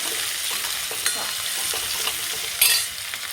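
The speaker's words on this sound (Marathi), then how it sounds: "त्यानंतर लगेच कांदा घालायचा. म्हणजे बारीक कांदा कापून घेतला." Finely chopped onion fries in a hot pan with a steady, close sizzle, a few soft stirring clicks and one brighter flare of crackle partway through.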